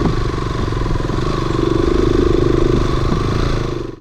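A motorcycle engine runs close and loud at a steady idle with a rapid rhythmic chug and a little mechanical clatter, holding even for several seconds before cutting off abruptly.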